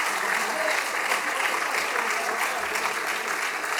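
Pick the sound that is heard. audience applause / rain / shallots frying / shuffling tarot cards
audience applause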